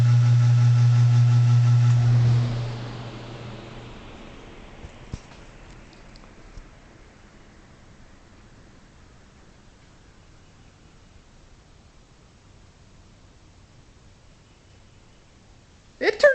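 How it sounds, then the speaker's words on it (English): A large, powerful fan with an aggressive blade winds down after being switched off: a loud steady roar fades quickly into a long, dwindling whir that is close by, and a brief clatter comes at the very end. "Now I'm going to turn off and do a spin down."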